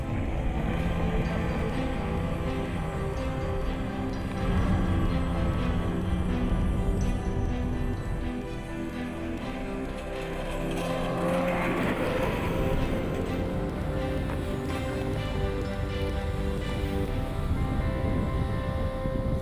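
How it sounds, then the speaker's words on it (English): Boat engine running steadily in the Arctic as the craft sets off toward fishing grounds, a continuous low drone with slight swells in intensity and no voices. "Luckily, the engine starts, and we're ready to set off towards the fishing grounds."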